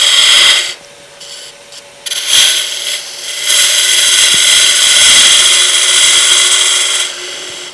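A lathe tool squares off the tenon on a spinning burl wood blank, producing loud, close scraping and hissing bursts, with a short pause near the start before a long sustained cut.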